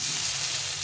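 Turmeric, chilli and cumin powders frying with mustard greens in a hot pan, a brief, dense, steady sizzle heard close up without speech.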